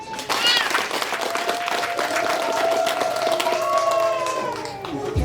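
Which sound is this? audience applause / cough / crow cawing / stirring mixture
audience applause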